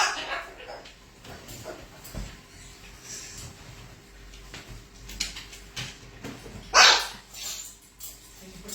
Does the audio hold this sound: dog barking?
yes